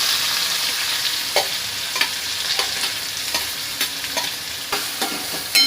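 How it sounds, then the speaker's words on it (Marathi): Chopped onion sizzles in hot oil with cumin and asafoetida for a Malvani-style lima bean bhaji, a steady frying hiss broken by regular scraping clicks of a spoon stirring the pan. "त्याला आपल्याला चांगलं त्या तेलामध्ये परतून घेऊया कांदा"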